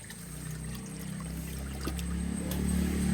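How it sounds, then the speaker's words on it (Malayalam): Water from a pipe streams steadily into a container of live fish, a continuous close pouring and trickling wash over a low rumble, growing slightly fuller toward the end. "അത്രയും മതി വെള്ളം. അങ്ങോട്ട് ഒഴിച്ചോ."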